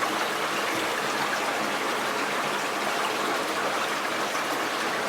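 A steady, rushing wash of flowing stream water at Buffalo Point Recreation Area, constant and fairly close, with no voices.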